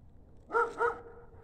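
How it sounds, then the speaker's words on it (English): A dog gives two quick barks at moderate distance, alone against a quiet nighttime background. "That's a dog over there."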